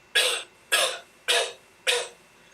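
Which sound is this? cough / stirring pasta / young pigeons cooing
cough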